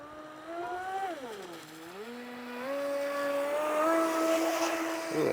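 A 4S Traxxas Disruptor RC boat runs at low throttle on water, its electric motor giving a steady whine that dips and rises in pitch as it turns and eases forward, close and continuous with no voices.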